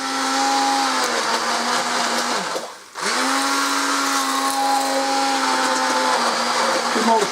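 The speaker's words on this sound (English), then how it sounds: "I've just got one of these Moulinex turbo mixes" A Moulinex Turbo Mix hand blender purees vegetable soup with a loud, close, steady motor whine that dips and stops briefly partway through before revving back up and running on.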